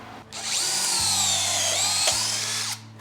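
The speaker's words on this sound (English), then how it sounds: "drill our first pocket hole" A power drill whirs steadily for a few seconds, its motor pitch dipping under load as the bit bores a pocket hole into wood with a Kreg Jig 720PRO, then winds down.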